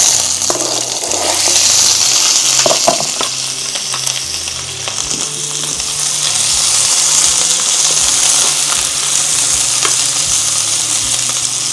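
Sliced onions stir-fried in olive oil, a loud, dense, continuous sizzle close up, with occasional scrapes and clinks from stirring.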